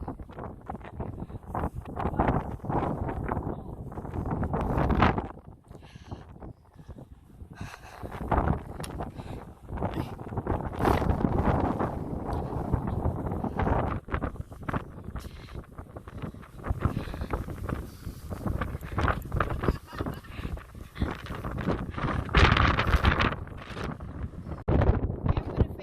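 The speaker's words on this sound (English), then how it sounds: "the wind is blowing so hard" Strong wind buffets the microphone in gusty, roaring bursts during a snowstorm in the Netherlands, loud and uneven with brief lulls.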